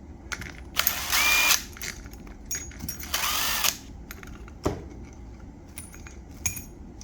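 A power tool spinning out bolts from the clutch cover of a Kawasaki KLX300, with two longer loud whirring bursts and several short buzzes, plus metallic clinks and rattles of parts between them.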